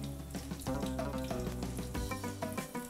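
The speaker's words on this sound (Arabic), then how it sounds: "صافي كنخليهم يتقلاو من الجهتين" Breaded taco nuggets coated in flour, egg and breadcrumbs sizzle and crackle quietly in oil in a frying pan, a soft continuous frying hiss under faint kitchen clatter.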